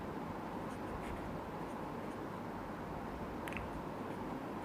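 A lecturer writes notes during an electrostatics lecture on electric fields, a continuous dry scratching that sits in steady hiss, with no voices.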